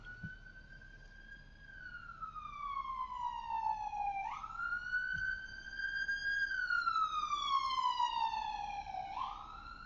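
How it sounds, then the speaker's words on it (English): An ambulance siren goes by outdoors, wailing in long slow rising and falling sweeps, moderately loud and somewhat distant, with no talk over it. "The ambulance."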